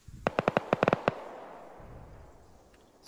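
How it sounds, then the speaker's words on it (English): Gunfire in the military shooter game Arma 3: a rapid cluster of sharp cracks, roughly ten shots in under a second, then a long fading echo and a couple more shots at the end. "the direction the gunshots are coming from"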